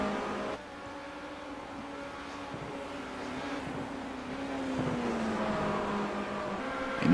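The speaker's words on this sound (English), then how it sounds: "you can really hear these cars rip through these gears to get down to the speeds to make a successful track in" Simulated race cars lap Silverstone in the iRacing video game, their engines wailing and rising and falling in pitch as they shift through the gears. The sound stays loud and continuous throughout, with no voices.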